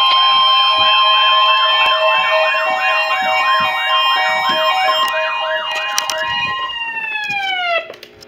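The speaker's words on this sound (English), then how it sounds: "The preceding signal was a test of the public warning and alarm" Emergency alert test tone broadcast over NOAA Weather Radio: steady loud electronic warbling siren with stacked pitches holding for about seven seconds, then gliding down and cutting off.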